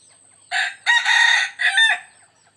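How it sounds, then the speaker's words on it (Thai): A Thai decoy fighting rooster, three to four years old, crows loudly and close by, one long drawn-out call broken into a few harsh, strained segments. "พามาชมไก่ต่อนะครับ"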